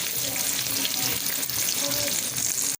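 Fish fries in a hot pan in a home kitchen, giving a dense, steady sizzle and crackle close up that runs continuously before cutting off briefly at the end.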